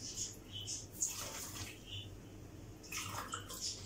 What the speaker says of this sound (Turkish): Bir buçuk su bardağı kaynar su ekledim.